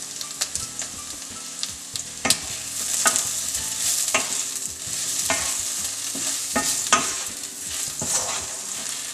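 Okra frying in a pan as coriander, turmeric, chili and salt are stirred in, a steady bright sizzle broken by sharp scraping clicks of a utensil against the pan, close and fairly loud with no talking.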